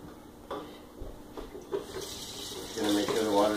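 Tap water runs into a container holding hatching eggs, a steady splashing pour that swells louder toward the end.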